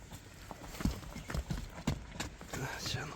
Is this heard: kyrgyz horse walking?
yes